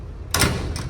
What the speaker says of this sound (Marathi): आणि त्याचा डोअर बंद केलं